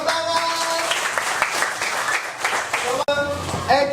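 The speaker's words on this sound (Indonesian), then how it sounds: "Bagus, tepuk tangan." Group applause in a classroom after students perform an ecosystem chant, a dense burst of many hands clapping throughout, with children's voices mixed in and a brief cut near the end.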